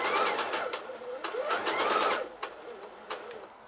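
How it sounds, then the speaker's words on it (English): A bernette 77 sewing machine stitches Ponte knit fabric with a steady, close, whirring hum that speeds and slows in short runs before easing off. "lower our foot, and then begin stitching"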